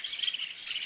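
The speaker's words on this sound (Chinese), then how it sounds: "听得到鸟叫" Small birds on a hillside farm give rapid, thin high chirps in a steady twittering run, brief and moderately close with no other sounds.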